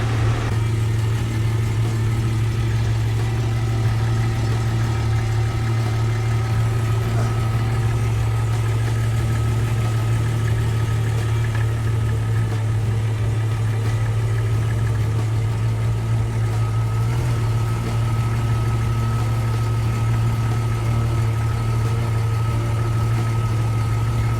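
A car engine idles just after an oil change, holding a loud, constant low hum with a steady rumble throughout, no voices over it.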